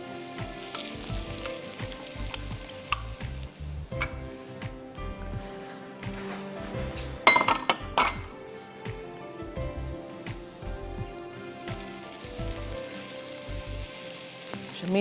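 Onion, ginger and garlic frying in a pan, a dense continuous sizzle with crackling pops and occasional stirring knocks, close and steady throughout with a brief louder burst midway.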